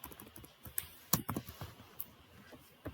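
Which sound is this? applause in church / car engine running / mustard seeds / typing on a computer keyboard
typing on a computer keyboard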